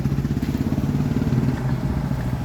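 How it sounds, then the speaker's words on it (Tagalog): Kawasaki motorcycle fitted with an Austin Racing exhaust, idling close by with a steady, throbbing low rumble that holds evenly throughout, with no voices over it. "Kinanindot ang tambutso Austin Racing kinanindotan jud."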